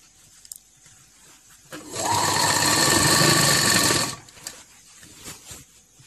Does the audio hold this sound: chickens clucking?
no